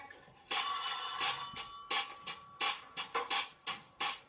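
A telephone rings with a bright electronic warble, one long burst followed by a string of shorter, evenly repeating rings, heard fairly close with no talk over it.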